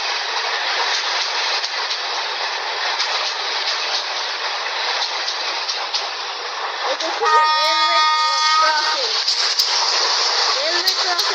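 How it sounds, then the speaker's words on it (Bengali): A local train on the railway passing close by, a steady rumbling roar joined partway through by a sharp, loud horn-like tone, heard from aboard another moving train. "ওই যে দেখুন আরেকটা যাচ্ছে, আরেকটা ট্রেন যাচ্ছে"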